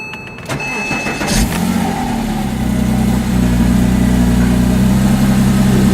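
A Porsche Boxster engine cold starts from inside the cabin: a quick starter whir, a sharp catch, then a loud, steady, low idle that holds close and even.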